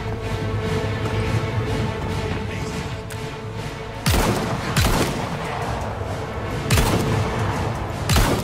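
Explosions and gunfire from the Resident Evil video game, a dense steady rattle of shots with heavy booming blasts near 4, 5, 7 and 8 seconds.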